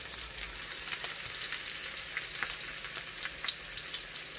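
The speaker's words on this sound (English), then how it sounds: "So the first thing we're going to do is we're going to saute our garlic." Garlic sautéing in hot oil for adobo with tausi, an even close sizzle with scattered crackles and occasional stirring scrapes, steady throughout with no talking.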